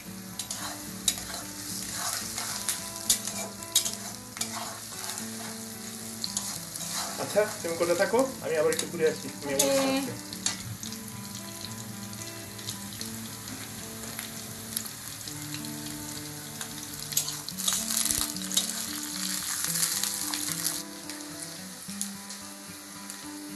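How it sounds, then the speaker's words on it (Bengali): Onions sizzle and fry in a pan while being stirred and scraped, steady and close for the whole stretch, with a person's voice briefly heard speaking over the cooking, and faint music running underneath. "পেঁয়াজটা ভাজার সময় হালকা একটু লবণ ছিটিয়ে দিই"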